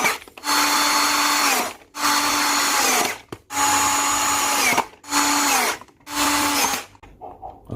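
A power drill driving screws to reassemble a jet cleaner pressure washer runs in five loud, steady bursts of about a second each, separated by short pauses, close up, with a faint clatter at the end.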